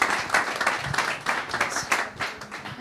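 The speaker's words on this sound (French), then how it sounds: "je pense qu'on peut applaudir Julie et Matfer Bourja" An event audience applauds two presenters, Julie and Matfer Bourja, with moderately loud, uneven clapping from a crowd over a few seconds.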